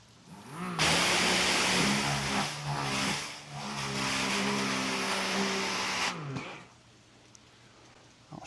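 A Ryobi Whisper Series 40V 1.2 GPM pressure washer set to 2000 PSI runs with a loud, steady motor hum and hiss for about five seconds, then cuts off, leaving quiet room noise.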